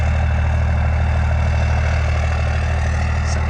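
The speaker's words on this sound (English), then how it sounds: "You can definitely hear the turbo a lot more too out the back." A 1993 Dodge W350 with a 12-valve Cummins diesel runs steadily at idle, a loud, close, continuous low rumble with a faint turbo whistle riding on top throughout.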